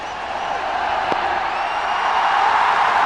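A huge cricket stadium crowd of around 40 to 50,000 during a Test match run chase against England, a broad, steady roar of cheering that swells slightly toward the end, with no individual voices standing out.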